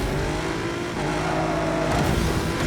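A racing car engine roaring and revving steadily in the arcade racing video game Ace Racer, loud and continuous throughout with a slight rise in pitch near the end, no talk over it.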